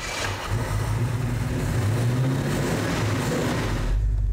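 A '65 wagon engine with multi-point fuel injection cranks briefly, then catches and runs at a rough, steady rumble. It sounds close and fairly loud, then cuts off at the end.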